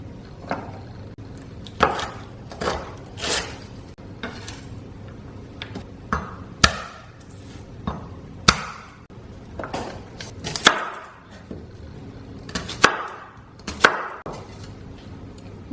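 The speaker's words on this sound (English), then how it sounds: "Just roughly chop your chilies." Chillies being roughly chopped with a knife on a board: a string of crisp, irregular knocks of the blade, some single and some in quick pairs, close by with no talking.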